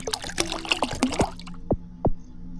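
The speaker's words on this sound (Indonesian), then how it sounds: "Dispenser air guys. Ambil air ya. Segelas dalam air." Water runs from a water dispenser into a glass in a few short pours, with clear rising gurgles near the microphone and some background sound early on.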